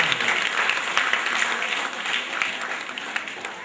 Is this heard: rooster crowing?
no